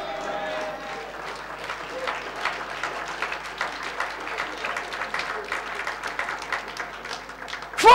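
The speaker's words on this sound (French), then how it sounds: "Vous aurez dû plus applaudir que ça quand même." Audience applause at a church gathering, moderate and steady clapping throughout with voices mixed in, ending in a sharp loud burst.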